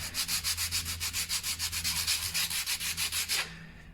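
Sandpaper rubbed by hand across a damp-damaged wall, a close rhythmic rasping of about twenty even back-and-forth strokes over a few seconds, with no talking.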